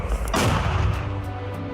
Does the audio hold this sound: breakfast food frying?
no